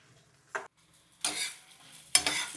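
Brinjal frying in a pan with dried red chilies while being stirred, heard as a few separate bursts of sizzling and scraping between quiet gaps, close and moderately loud.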